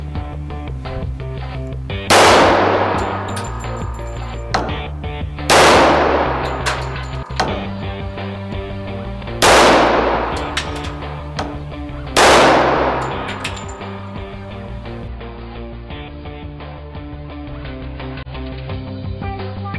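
Pistol shots at a shooting range, four loud sharp reports spaced a few seconds apart, each with a ringing tail, over steady background noise.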